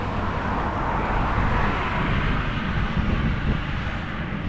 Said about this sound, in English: There's a guy flying a plane up ahead.